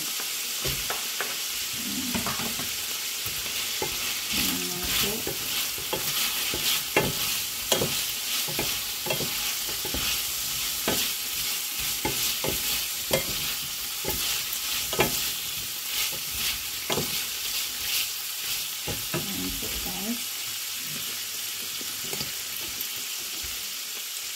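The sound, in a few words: garlic and onion sautéing in a pan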